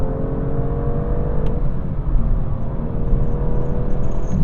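BMW M2 fitted with an XForce Varex adjustable exhaust revving on a cold day, a loud, steady engine drone with rising harmonic sweeps, close and continuous, no voices.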